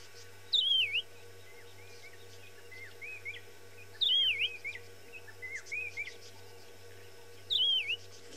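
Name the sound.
white-browed cuckoo call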